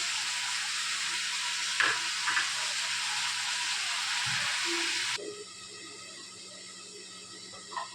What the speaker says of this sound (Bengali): চচ্চড়ি হচ্ছে।